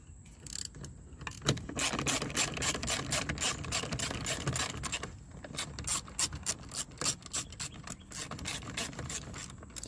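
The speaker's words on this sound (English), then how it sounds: "let's put the screws on here, and we'll tighten them up." A ratchet tightens screws on the rear outside door handle of a Chevy Suburban, giving a steady run of close, rapid clicking strokes with brief pauses between bursts and no talking.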